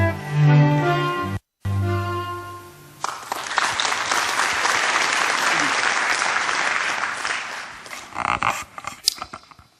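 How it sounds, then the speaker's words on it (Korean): Applause rises from the audience at the 15th Busan Culture Awards ceremony as the mayor of Busan is welcomed to give a congratulatory speech; it follows a brief announcer's voice and a short gap, then a dense, steady burst of clapping fills the rest. "박수로 맞아 주십시오"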